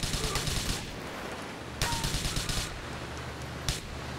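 Bursts of automatic gunfire sprayed in the video game GTA IV, three separate rapid volleys of sharp cracks with quieter gaps between them, loud and close.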